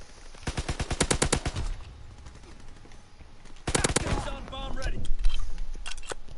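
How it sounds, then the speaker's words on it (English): Grease gun submachine gun firing in the Call of Duty: WWII video game, two loud rapid bursts of automatic fire with distinct rhythmic shots, followed by scattered single shots and in-game voice chatter. "Grease gun, nice. Grease gun is very nice."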